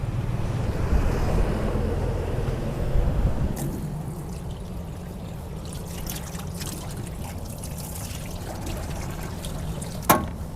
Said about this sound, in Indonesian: Pertama kita bisa alirkan air ke dalam chambernya dan kita langsung keluarkan di keran pembuangannya yang ini.